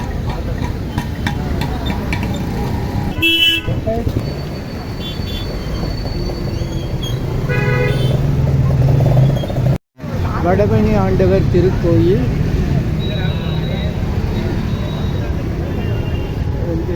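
Steady roar of road traffic on Arcot Road, Vadapalani, on a rainy-season evening, with vehicles rumbling past nearby, a horn and engine whine rising now and then, while someone talks over the noise.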